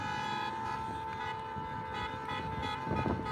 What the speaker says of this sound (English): I don't know if you can hear me over the horns honking